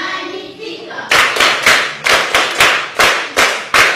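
An audience claps in a burst of about ten sharp, evenly spaced beats after a second of low murmuring, loud and close, with no one speaking over it.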